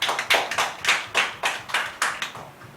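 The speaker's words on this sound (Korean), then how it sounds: "우리 다시 한번 하나님께 영광의 박수 올려드리겠습니다" A church congregation applauds at Sunday worship, many hands clapping together in a quick, fairly regular rhythm, close and lively, with no voices over it.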